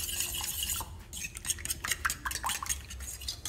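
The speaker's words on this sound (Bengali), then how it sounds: "এখন আমি এটাকে ভালোভাবে ফেটে নেব।" Eggs with thankuni leaves, white pepper and salt are beaten in a bowl, giving quick, close scraping clinks of a utensil against the dish in an irregular rhythm.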